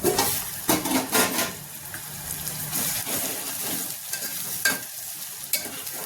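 Brinjals frying in a pan, a continuous close sizzle with a few sharp spatula scrapes and clinks, strongest at the start, then settling into steady crackling.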